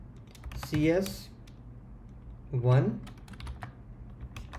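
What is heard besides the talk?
typing on a computer keyboard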